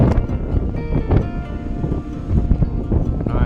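Strong wind roars across the microphone during a bicycle tour on a corrugated dirt road near Lake King, Western Australia, a steady rough gusting rush with no talk.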